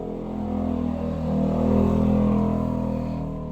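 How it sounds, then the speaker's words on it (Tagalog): A steady engine drone hums with passing motorcycles, rising slightly as one goes by, no voices. "ang ingay ng mga motorsiklo na dumadaan"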